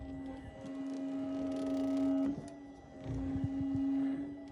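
A Volvo electric power steering pump runs inside an R32 sedan, giving a steady mechanical whine with a strong tonal hum that rises and falls in two surges, close and moderately quiet, with no talk.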